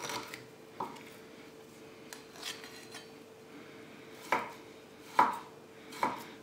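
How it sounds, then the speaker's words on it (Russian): A knife chops skinned pork fat (salo) into small chunks for a Ukrainian-style spread, giving several sharp knocks on a board at an irregular pace with quiet gaps between them and no talking. "отрезаем от него шкуру, она нам не понадобится, и нарезаем его в произвольной форме небольшими кусками"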